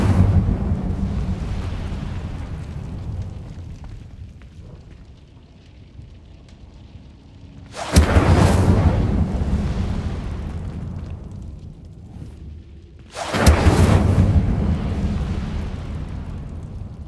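Incendio fire spell cast in Hogwarts Legacy: two loud, whooshing fiery bursts several seconds apart, each a sharp crack that swells into a roaring rumble and slowly fades over a low ambient drone.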